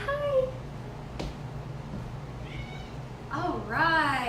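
A cat meows indoors, a few short plaintive calls, the loudest near the end, over a low steady room hum as a person coaxes it to come over.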